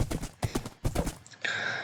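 Horse hooves clip-clopping in Minecraft, a few close, distinct steps in uneven bursts, followed by a brighter sustained game sound at the end.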